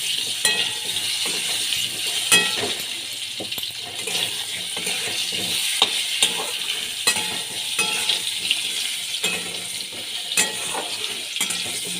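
Potato pieces fry with salt, turmeric and Kashmiri chilli powder, giving a steady close sizzle broken by occasional scraping and clinking stirring strokes against the pan, with no talking.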